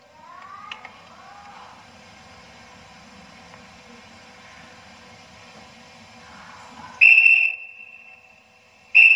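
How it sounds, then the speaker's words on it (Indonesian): A sharp, piercing whistle blown outside during a night raid on a general's house sounds twice near the end, a long steady blast followed by a brief second one, after a stretch of quiet ambience with a faint rising tone. "kemudian terdengar suara peluit dari luar."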